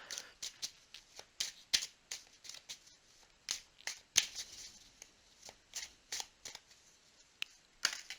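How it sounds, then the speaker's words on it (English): A tarot deck is handled while one card is drawn, producing a run of soft, crisp card flicks and slaps at irregular intervals, close and quiet, with no speech. "I want to go ahead and just pull one more card."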